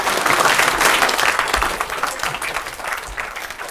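A school audience at a maths talk breaks into clapping, a loud burst of many hands that gradually thins and fades over a few seconds, with no talking.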